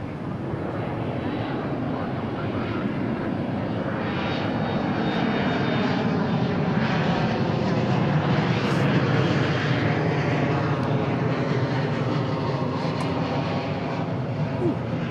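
An Embraer E175 airliner bound for Amarillo moves at DFW International Airport, its engines making a continuous, moderately distant roar that builds slightly in the middle. The sound carries on steadily through the whole stretch.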